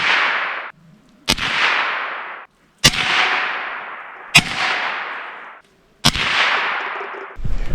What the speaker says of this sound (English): Or here are the bottles after I shot them up with the 22.